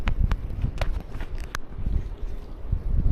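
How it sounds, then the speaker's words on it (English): Wind buffets the microphone while riding a Motobecane e-bike fitted with a Bafang motor outdoors, a loud, uneven low rumble with gusty swells throughout and no speech. "look at that wind gust"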